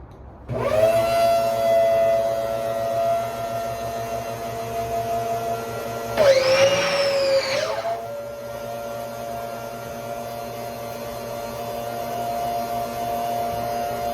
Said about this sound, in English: Let me plug my pressure washer in.